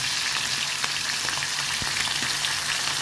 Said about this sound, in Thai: ตอนใส่ต้องระวังนะคะเพื่อนๆเพราะว่า น้ำมันร้อนค่ะได้ยินไหมคะ